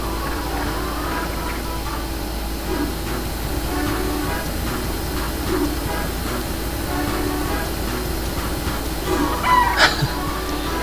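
Chickens cluck repeatedly in Breath of Fire 3 as guards scramble to catch them, with short game clucks running over a steady loud background music and game noise throughout.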